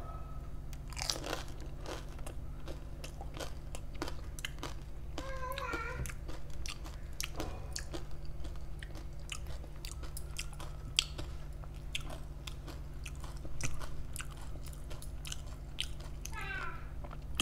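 Crunchy dahi puri being bitten and chewed, giving faint, close, repeated crisp crunches over a low steady hum, with a few brief higher-pitched sounds.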